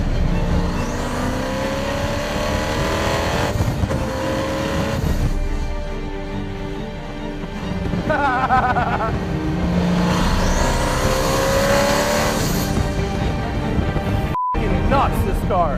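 Tuned sports car engine revving hard, loud close engine roar with rising and falling gear sweeps and brief throttle lifts, under someone talking over it.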